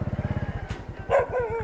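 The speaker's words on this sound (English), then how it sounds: "These are the policeman's dogs. He's out at the moment, so they'll always bark when he's not there." The policeman's dogs bark outdoors in a rapid, pulsing volley that fades, then a couple of sharper yips and barks follow nearby over a low engine-like rumble.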